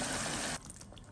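Boiled beef and its stock are poured into a karahi of softened tomatoes, giving a loud, dense rushing hiss for about half a second before it drops to a quieter bubbling simmer.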